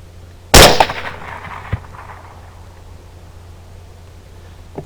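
A single loud rifle gunshot during a hog hunt, a sharp close crack that rings out and decays over about a second, followed by a fainter knock and quiet outdoor background.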